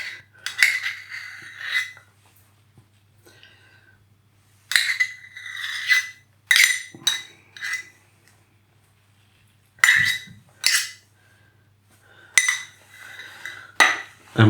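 Cream is stirred into a chicken ruby curry in a pan, with close metallic scrapes and clinks of a utensil in separated bursts, quiet gaps between them.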